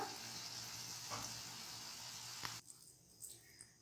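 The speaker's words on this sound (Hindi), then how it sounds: "हल्की हल्की आंच पर हमने इसको थोड़ा सा केलों को फ्राई करना है बटर में" Bananas fry in butter over low heat, a faint steady sizzle that runs for a few seconds and then drops away to quieter crackles.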